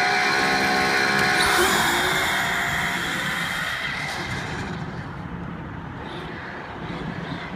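Traxxas Slash 4x4 RC truck electric motor revving to full and launching, a loud rising high whine that peaks early then fades away as the truck speeds off into the distance.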